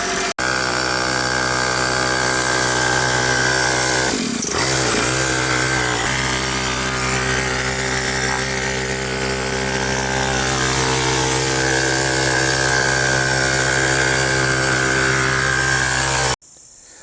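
A Coolster 49cc dirt bike engine runs loud and close with a steady, buzzy two-stroke drone that barely changes pitch, dips briefly early on, then cuts off abruptly near the end.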